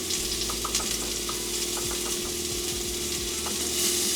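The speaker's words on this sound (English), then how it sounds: "So I'm going to add these mushrooms. The maitake mushrooms." Maitake mushrooms fry in a pan with a continuous crackling sizzle, small pops and spatters scattered over a steady hum, close and unbroken with no talking.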